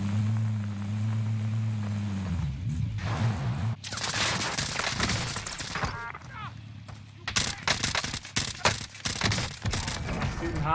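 Rapid crackling bursts from a CARV.2 rifle in Warzone, several sharp volleys over a steady droning engine hum, with a loud cluster of shots toward the end.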